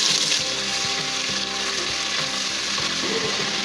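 Onion paste, ginger-garlic paste, cumin and green chilies frying in a pan for chicken keema pulao, giving a steady, close, dense sizzle with a few soft stirring scrapes and no voices.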